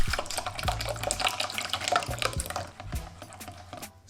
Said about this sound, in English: Now add in the buttermilk